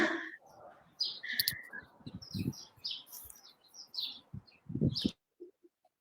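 Small birds chirp and tweet outdoors in short, bright bursts scattered across several seconds, fairly near, with low thumps and faint background noise between calls.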